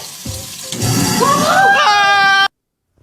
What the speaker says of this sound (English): You always have the water running when you do it.